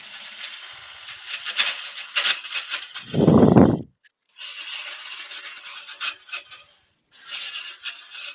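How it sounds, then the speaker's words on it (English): A wooden vase being sanded by hand makes bursts of dry rasping strokes with short pauses between them, broken once by a brief low thump, close and moderately loud. "I'm not sanding it inside, Ruby, because I haven't got my long vase sa"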